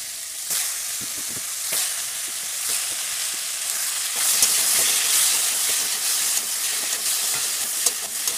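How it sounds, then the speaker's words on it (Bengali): Kohlrabi and potato pieces fry in hot oil in a pan, giving a loud, continuous sizzle and hiss with occasional stirring scrapes close by, no talking. "বন্ধুরা দেখো ওলকপি আলু ভাজা বসিয়ে দিয়েছি"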